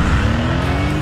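A GTC Roadster sports car gives a loud, steady engine roar with dense, gritty exhaust noise that holds at a constant level for about a second.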